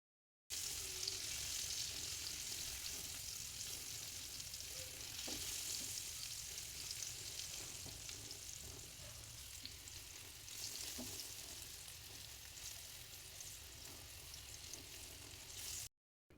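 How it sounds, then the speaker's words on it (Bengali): Steady sizzling of papaya pieces frying with salt and turmeric in a pan, with occasional scrapes and clinks of stirring throughout, close and continuous with no talk. "সব কিছু ভালো করে মিশিয়ে নেড়েচেড়ে কিছু সময় ভেজে নেব।"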